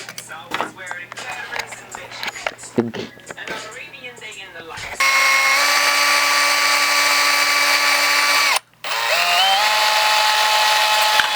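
Talk and handling noises give way to a loud, steady high-pitched whine of a power drill running continuously, briefly cutting out, then spinning up again.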